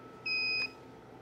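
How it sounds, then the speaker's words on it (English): A single clear electronic beep from a SmartOnline UPS at power-off, steady and high-pitched, lasting under half a second over faint background hum. "Hold it until you hear a beep"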